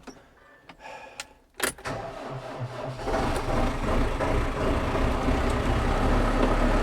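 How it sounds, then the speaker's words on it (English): A farm tractor engine starts on a frosty morning after a few clicks and clunks, then settles into a steady, fairly close rumble. "The tractor needs warming."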